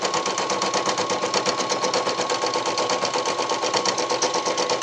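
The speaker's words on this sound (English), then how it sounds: "So I'm going to stitch out the tree and I'm going to use this fabric right here." Embroidery machine stitching out a small Christmas tree ornament on fabric in the hoop, a steady rapid mechanical whirring and ticking that runs without a break, close and fairly loud, with no voices.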